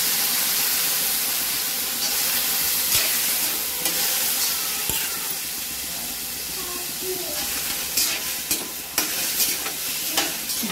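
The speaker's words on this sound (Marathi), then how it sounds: "बटाटे फोडणीमध्ये असे चांगले असे परतून घ्यायचे." Potatoes with chopped green chilli stir-fried in a hot tempering for fasting sabudana khichdi, a steady close sizzle with scraping spatula stirs and a few sharper clinks toward the end, no talk.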